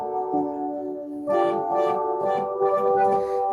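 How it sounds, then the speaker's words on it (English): An organ sounds with the 8 foot flute stop, sustained pure tones holding a chord and then shifting to new notes in a short, steady phrase, alone and fairly close. "If you have it with the 8 foot flute, it will sound like that."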